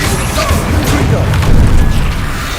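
Confringo blasting spell explosions from Hogwarts Legacy, a dense run of booming, crashing game blasts heard loud and continuous, with a brief swell midway and no clear talk.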